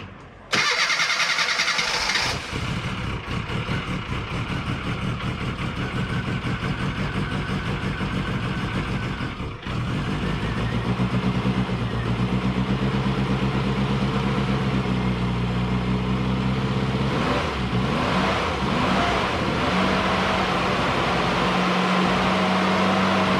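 A classic Mini engine, its oil pump just re-primed, cranks briefly then catches and keeps running at a steady, loud idle close by, with its tone shifting slightly later on and no one talking.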